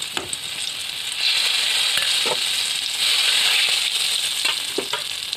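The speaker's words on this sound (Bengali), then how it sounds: "এবারে তেজপাতা দিয়ে দিচ্ছি।" Bay leaves sizzle and crackle in hot oil in a pan during a home cooking session for jal kachu with meat. The steady, close frying hiss carries a few light pops and runs the whole time with no talking.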